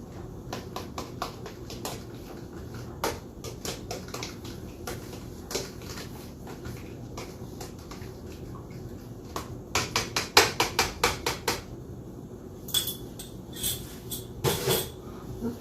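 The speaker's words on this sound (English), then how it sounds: "And then I can mix it together one more time." A utensil whisking milk into an egg mixture for French toast in a bowl, with rapid repeated clinks and taps against the bowl, quicker in bursts and spaced by short pauses.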